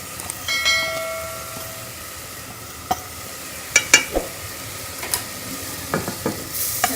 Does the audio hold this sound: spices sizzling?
yes